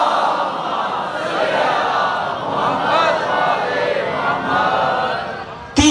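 A large crowd at a Muharram majlis recites salawat together aloud, a dense swelling mass of voices held for several seconds before an abrupt end.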